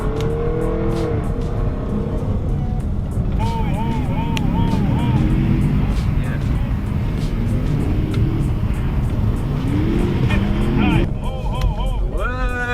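A Jaguar F-Type SVR and a Range Rover SVR accelerating hard on ice, loud engines roaring continuously with rising and falling revs through gear changes, close up and dominating throughout.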